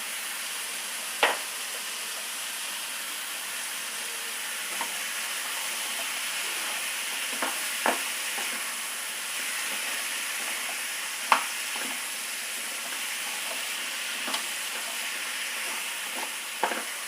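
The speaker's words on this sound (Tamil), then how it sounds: "ஒரு 2 நிமிஷம் இப்படி வதக்கி விட்டுடுவோம்" Vegetables seasoned with turmeric and salt sauté in oil in a pan, giving a soft, steady sizzle broken by a few sharp clicks and scrapes of stirring.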